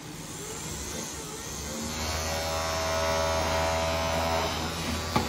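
A jet air car AC blower runs off an extension lead, first as a quieter hum and then rising at about two seconds into a louder steady whine and whir with a constant low buzz. It sits close with a brief knock near the end.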